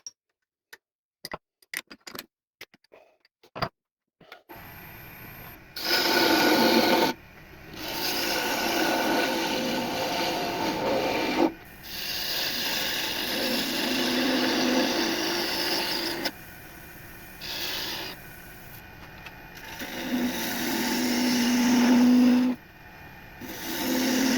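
A wood lathe turns a taper on a wooden dibble, a steady whirring cut that starts and stops in several long passes after a few sharp taps, fairly close and alone.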